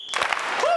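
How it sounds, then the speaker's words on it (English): An audience lets out a sharp whistle followed by a couple of quick hand claps, then a rising whistle, all packed into under a second with a faint crowd murmur underneath. "One whistle and a clap"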